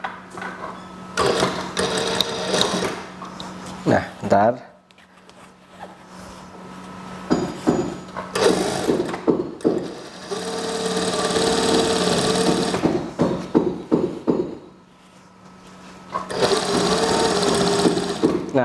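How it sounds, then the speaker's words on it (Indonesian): A sewing machine stitches a plain-waistband school skirt in bursts of steady whirring, stopping and starting several times, with brief quiet gaps between runs and a few short spoken words. "Jadi saya jahit seperti ini."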